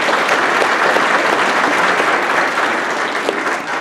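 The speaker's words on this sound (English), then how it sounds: "Give Dwayne a round of applause." Dense, steady applause from a large audience fills the room at a Republican Party state committee meeting, loud and continuous with no talk over it.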